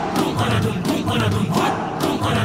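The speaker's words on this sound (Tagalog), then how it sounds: "Grabe, narinig yung sigawan." A crowd shouts and cheers at an SB19 dance practice, loud and sustained, with rising waves of excited yelling that swell and fade several times.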